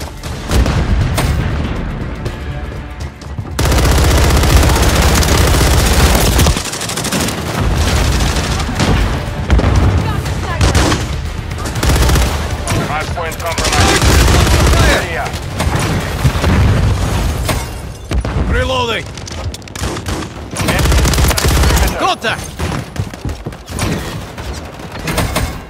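Gunfire and explosions in Call of Duty: Modern Warfare 3 multiplayer, dense and loud throughout, with booming blasts, rapid shot bursts and game voice callouts mixed in.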